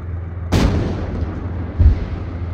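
Heavy cannon fire from a Bradley armored vehicle in the military video game Arma 3: two loud, sharp booming shots with a rumbling tail, the first sharper than the second, and no voices.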